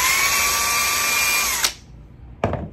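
A cordless drill with a brushed motor whines steadily at high speed, then cuts off and briefly spins up once more before the clip ends.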